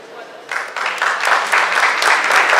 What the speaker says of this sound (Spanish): un aplauso más para ella